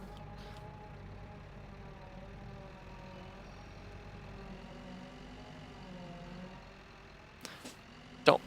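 A large tractor engine idles steadily in Farming Simulator 15, a low even drone throughout, with a couple of short sharp clicks near the end.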